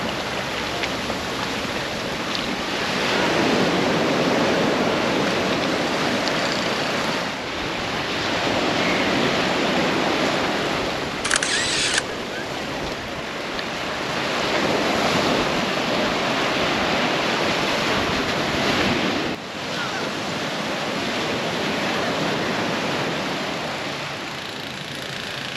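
Ocean surf breaking on a beach at Palm Beach, Florida: a steady, loud, broadband wash of waves rolling in continuously, with a few swells rising and easing, no voices.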